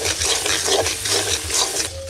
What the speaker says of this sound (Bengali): মা মশলাগুলো কষাচ্ছে,